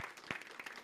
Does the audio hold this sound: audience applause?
yes